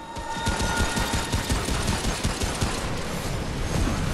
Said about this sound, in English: I'm getting some good shots here and there.